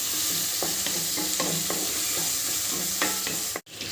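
A spoon stirs onion, tomato and garlic frying in a pan for a pepper curry, a steady close sizzle with regular scraping strokes about twice a second, ending in a brief dropout.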